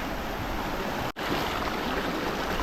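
Steady broadband rush of river water tumbling over large rocks in a dark, rocky stretch of river, continuous and close, with a momentary dropout near the middle and no voices.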